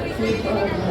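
A dense crowd at a Mahashivratri temple fair chatters all around, many overlapping voices blending into a continuous murmur.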